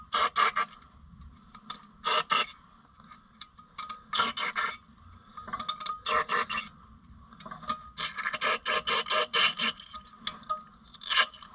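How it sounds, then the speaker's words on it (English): A bolt being run down threaded holes during reassembly of an Oliver 1365 tractor: close, irregular scraping and rasping bursts of metal on metal with pauses between them, no voices. "I think I will just run a bolt down each one and see what"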